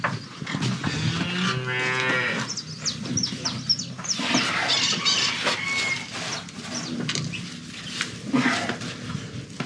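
A pregnant dairy cow on a farm moos loudly and repeatedly at close range, with birds chirping faintly in the background and no voices.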